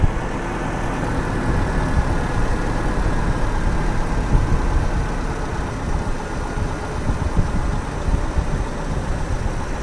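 After a tune-up, a Toyota Kijang Super engine idles at lowered RPM with a steady, close mechanical rumble. The low thrum stays fairly even for the whole stretch, with no talk over it.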